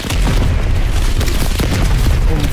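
Loud, continuous booming blasts of grenade launcher explosions in the Call of Duty Black Ops Cold War campaign, heavy low rumble sustained across the whole stretch with no talk.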